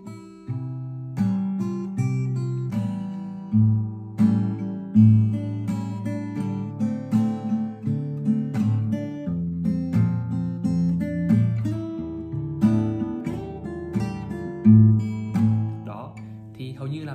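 A fingerstyle acoustic guitar piece played with a strumming flick technique, with plucked bass and melody notes broken up by quick percussive strums, close and steady in rhythm for about seventeen seconds, with no talking over it.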